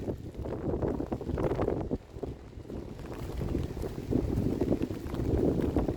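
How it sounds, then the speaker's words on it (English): Storm wind buffeting an outdoor microphone after a tornado near downed power lines, a continuous low rumbling roar with gusty surges rising and falling throughout. "Sorry, it's windy."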